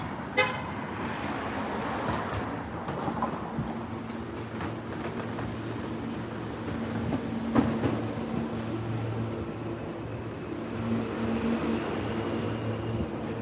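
A low, continuous rumble of a subway train, likely the G train, echoing up through a street air vent, with passing street traffic and a brief horn toot over it.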